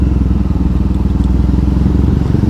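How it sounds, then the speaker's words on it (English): Motorcycle exhaust fitted with quieter baffles, ridden through Tokyo streets, burbles in a steady, loud, close pulsing rumble with slight crackle throughout. "The exhaust is a little bit obnoxious, especially to old people ears"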